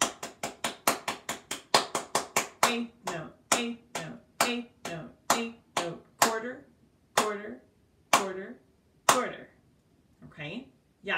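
Hands clap a rhythm exercise from a piano lesson: a run of sharp, close claps, quick and even at first, then spacing out into a slower, more irregular pattern.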